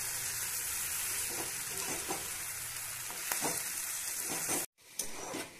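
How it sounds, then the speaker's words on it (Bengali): Chicken curry with fried potatoes is stir-fried in a pan, making a continuous close sizzle with repeated scraping stirs and a brief silent break near the end, and nobody speaks. "ভেজে রাখা আলুগুলো এর মধ্যে দিয়ে নিয়েছি, দিয়ে খুব ভালো করে একটু কষে নিচ্ছি।"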